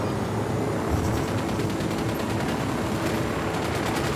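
Heavy automatic gunfire in the tactical shooter game Ghost Recon Wildlands, a steady, loud barrage of overlapping shots that runs the whole time with no talk.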